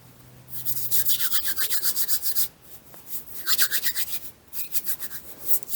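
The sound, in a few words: rubbing fat into flour by hand for jam bun dough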